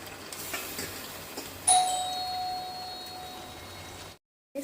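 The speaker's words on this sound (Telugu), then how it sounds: "వడార్చుకున్న చికెన్ వేసుకుంటున్నాను నేను" Washed, drained chicken drops into hot fried masala in a pan for a spicy chicken fry, setting off a steady close sizzle with a brief metallic clink of a utensil, then cutting to silence.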